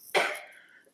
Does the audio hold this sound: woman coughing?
yes